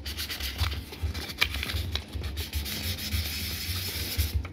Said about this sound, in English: Let's take some sandpaper here.